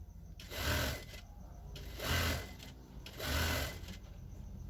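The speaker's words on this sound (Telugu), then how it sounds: "ఇక్కడి నుంచి 2వ కుట్టు పడుతుంది ఎలాస్టిక్ మీద." A sewing machine stitches elastic onto ladies' pants in three short bursts of whirring, each about half a second, with quieter handling noise between them, close and moderately soft.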